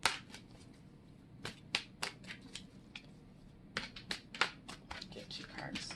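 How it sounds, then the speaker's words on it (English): Tarot oracle cards shuffled by hand, a series of crisp riffling bursts and soft slaps in irregular clusters, close and fairly loud with short pauses between. "I'm going to shuffle again."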